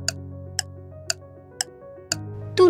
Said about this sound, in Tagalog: Tunog ng orasan na nakasabit sa kanyang babahan.